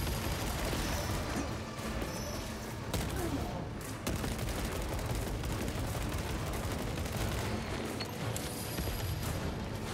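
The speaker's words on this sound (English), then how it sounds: "Lo and behold, it was just a tiny explosion." A small bomb goes off amid dense, continuous gunfire and combat noise in Warhammer 40K Space Marine 2, with the blast blending into the loud, steady battle din.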